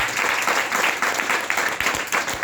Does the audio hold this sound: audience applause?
yes